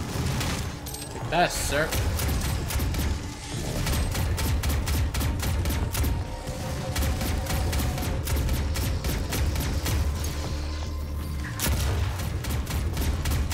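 Rapid, heavy shotgun blasts from a double-barrel shotgun in DOOM SnapMap, firing over and over in a dense close-range barrage with constant loud booms, a brief spoken remark cutting in early on.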